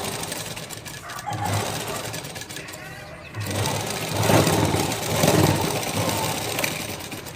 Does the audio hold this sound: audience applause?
no